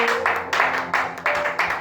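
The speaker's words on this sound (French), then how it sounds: "Est-ce qu'on peut lui donner une acclamation?" A church congregation claps and cheers in steady rhythmic waves that swell and fade several times, loud and close.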